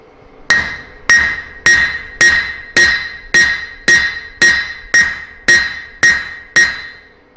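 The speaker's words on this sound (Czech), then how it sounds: "prostředkem toho kladiva bouchali nad hranou té kovadliny" A blacksmith's hammer strikes hot steel over the edge of an anvil during forging, ringing out in about twelve loud, evenly spaced metallic blows, each with a bright, decaying clang.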